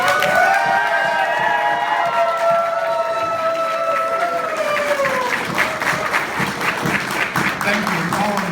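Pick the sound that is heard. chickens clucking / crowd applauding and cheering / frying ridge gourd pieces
crowd applauding and cheering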